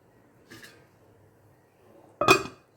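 Metal lid set onto a cooking pan of simmering pesarattu curry with tamarind juice, giving a soft clink and then a single sharper, louder clatter near the end, with no talk over it.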